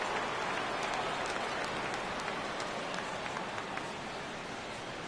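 Steady rain patters down at a baseball game at Wrigley Field, Mets at Cubs on opening day 2018, a dense continuous hiss with scattered drips and no talking.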